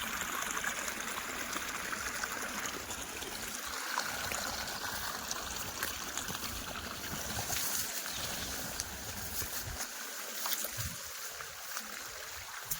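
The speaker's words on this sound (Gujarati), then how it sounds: "આ પાણી ચાલુ છે." Water runs steadily through a channel at a farmhouse, a continuous gushing flow heard up close. The sound stays fairly even for the whole stretch, with brief dips and no talking.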